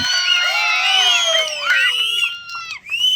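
A political rally crowd cheering and shouting loudly, a dense continuous roar of many voices with whoops and yells, close and sustained.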